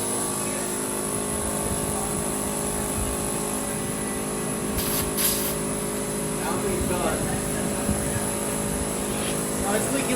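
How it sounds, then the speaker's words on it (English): An air compressor runs with a steady, loud mechanical hum and hiss while inflating a Porsche Cayenne spare tire, with a couple of brief louder bursts of air partway through. "We're going to take a real air compressor to try to get air in this thing fast."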